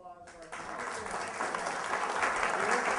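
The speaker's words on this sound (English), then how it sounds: "I'd like to have another round of applause" Audience applause at the close of an evening candidates' forum, a dense, steady wash of clapping that swells after a brief spoken lead-in and holds loud and even to the end.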